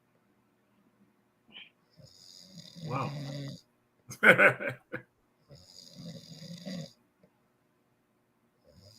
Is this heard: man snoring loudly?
yes